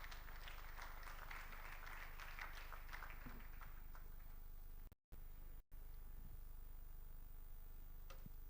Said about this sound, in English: Please join me with a round of applause in welcoming him.